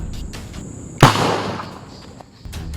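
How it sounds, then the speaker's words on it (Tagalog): A homemade boga cannon made from an evaporated milk can fires once, a sharp loud boom with a long fading rumble, heard outdoors with no talking during the blast. "Ang unang putok ng boga natin nagawa sa ibap."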